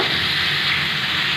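Mango rice mixture with salt, turmeric powder and chili sautéing in a pan, giving a steady, loud, continuous sizzle with stirring noise and no pauses.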